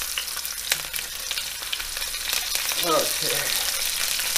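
Onion slices laid across the bottom of a pan for Southern fried rabbit, giving a soft sizzle and light shuffling of the slices, close and continuous, with someone briefly speaking over it.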